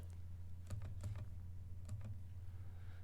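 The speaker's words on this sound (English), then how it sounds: "Okay, we'll zip that up quick on our calculator." Fingers press numbers on a calculator in two quick bursts of faint, light clicking taps, separated by a pause, in a quiet room.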